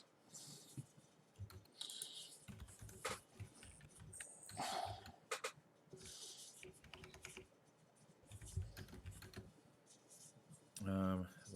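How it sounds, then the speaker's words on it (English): Fairly quiet clicks and taps of typing on a computer keyboard, coming in irregular bursts with pauses, alongside brief speech and other small background noises. "I'm typing it in right now."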